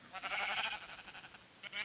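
Sheep in the Minecraft video game bleat in a few repeated, wavering calls, fairly loud and close, with no talking over them.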